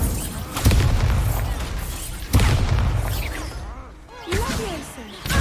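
Spell effects from the Hogwarts Legacy video game, with the Incendio fire spell cast in a duel: sharp bursts and whooshing booms land roughly every two seconds, loud and close, mixed with game voices.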